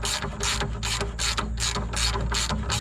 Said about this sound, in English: remove this bolt and put some washers under it to shim it up